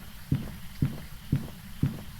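Slow, heavy footsteps of the slow twin ghost in Phasmophobia under a Blood Moon, four dull thuds spaced about half a second apart over a steady low ambient hum.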